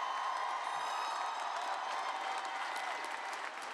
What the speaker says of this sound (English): let's have a round of applause from everybody else to this great class